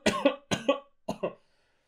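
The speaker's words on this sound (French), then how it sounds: "Faut pas que je tousse énormément comme ça." Three close coughs in quick succession, each a sharp double burst, with the last one fainter, followed by silence.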